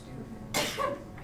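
A single sudden sneeze bursting out in a classroom, sharp and close, followed by a brief vocal tail, with faint room noise before it.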